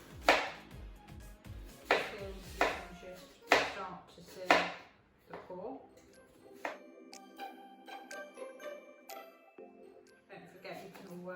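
A knife cuts through peeled apples on a chopping board, with several crisp, evenly spaced chops near the start followed by lighter knocks and tonal clinks of utensils, while a person talks throughout.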